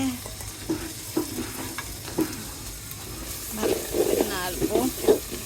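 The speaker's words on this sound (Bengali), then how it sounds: "এখন এটাকে ভালো করে কষায় নিই" Stone-ground spice paste sautéing in a pan ahead of duck curry, with close sizzling and bursts of spoon stirring and scraping that grow busier toward the end.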